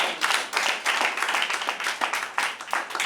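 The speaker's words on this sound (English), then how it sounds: "A round of applause for" An audience at a school debate competition applauds a speaker with dense, continuous clapping that stays fairly loud and even for a few seconds.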